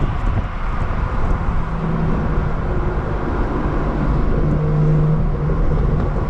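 Low, steady exhaust drone from a BMW 340 fitted with downpipes, cruising at night on a city block, a continuous rumble with slight swells in the low end and no talk over it.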